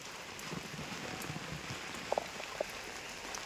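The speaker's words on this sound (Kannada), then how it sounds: "ಮಳೆಯ ಸೌಂಡಿಗೆ ನನ್ನ ವಾಯ್ಸ್ ನಿಮಗೆ ಕೇಳಲಿಕ್ಕಿಲ್ಲ" Heavy rain pours steadily as a dense, even hiss, with a few brief sharp knocks or drips standing out near the end.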